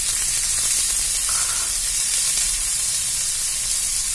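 Green chilies, tomato pieces and a small piece of ginger fry in hot oil in a pan, giving a steady, dense sizzle that holds evenly at close range throughout, with no voices.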